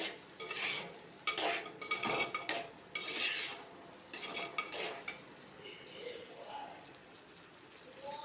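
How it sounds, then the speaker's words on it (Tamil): Okra stirred in a metal pan while making tamarind puli kulambu, with a series of close scraping and clinking strokes of a spoon against the pan in irregular bursts, fading to quieter frying toward the end. "நல்லா கிண்டிக்கலாங்க."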